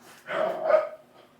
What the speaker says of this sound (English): that's my guard dog.